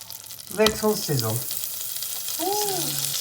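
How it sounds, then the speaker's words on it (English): Soft, steady sizzle of butter in a pan under a voice, with a few brief spoken phrases over the frying. "So first I'm going to start adding in the butter. Hopefully, little sizzle."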